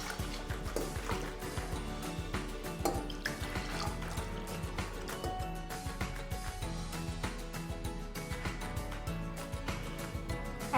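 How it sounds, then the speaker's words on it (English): Hot chocolate is poured into cups in a home kitchen, a steady liquid trickle and splash running continuously under background music. "After that, we pour the chocolate into the cups."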